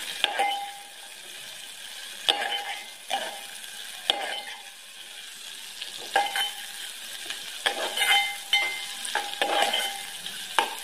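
Onions, garlic and ginger sizzling and crackling in a hot pan, with intermittent scraping and stirring bursts against the pan, fairly close and steady throughout.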